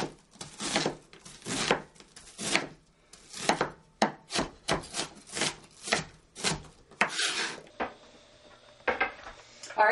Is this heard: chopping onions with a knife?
yes